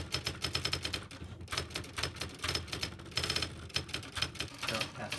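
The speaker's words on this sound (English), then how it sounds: "The symbol table is printed on the console typewriter." An IBM 1620 console typewriter prints out a symbol table in rapid mechanical bursts of keystrikes, clattering lines broken by brief pauses for carriage returns, close and loud.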